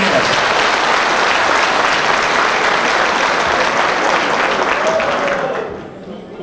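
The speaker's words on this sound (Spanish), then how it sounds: "Yo quiero un aplauso fuerte para estos y estas compañeras" Loud, dense applause from a large crowd at a political party rally fills the space continuously, then tapers off slightly near the end.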